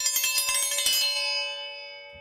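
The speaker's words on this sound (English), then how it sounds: "That's the sound of a call to dinner triangle he crafted." A metal dinner triangle is struck in a rapid rattling roll, then left to ring out with a shimmering tone that slowly fades.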